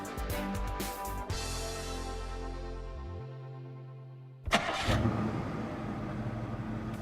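Remote control cars drive with a steady whining motor drone that sinks and fades, then a sudden loud burst of revving motors. No voices.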